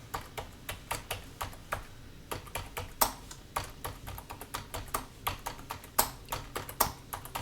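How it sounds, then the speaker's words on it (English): Rapid clicking of computer keyboard keys as a trading alert is entered, a steady run of sharp, close taps with a few heavier strokes, no talking. "we're going to type in an alert"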